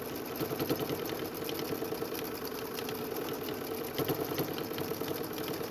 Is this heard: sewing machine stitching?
yes